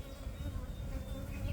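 Honey bees buzzing around a strong hive, a dense close hum of many wings that rises and falls in a continuous drone.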